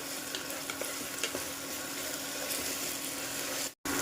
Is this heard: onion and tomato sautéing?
yes